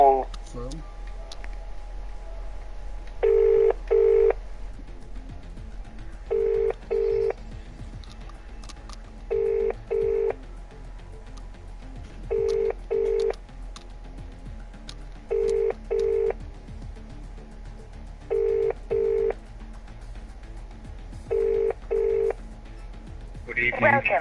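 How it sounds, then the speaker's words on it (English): Telephone tones while a call is placed, a steady repeating pattern of paired beeps about every three seconds over a low background hum, with no one talking over it. "I have to quickly make a fairly quick phone call to someone."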